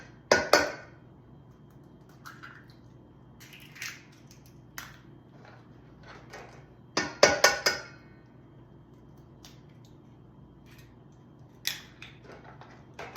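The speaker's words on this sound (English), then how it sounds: "And then I'm gonna add a couple eggs." A few eggs cracked into a bowl, sharp isolated taps and clinks of shell against the rim spaced several seconds apart, with quiet pauses and no speech.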